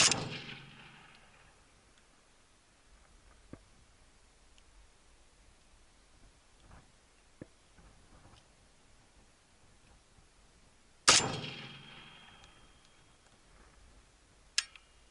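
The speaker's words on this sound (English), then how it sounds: "we're gonna try to hit that panel with the 545, so we'll take a couple shots" Two loud, sharp 5.45x39 rifle shots fired at a steel armor panel downrange, about eleven seconds apart, each ringing out and decaying, with faint ticking in the quiet between.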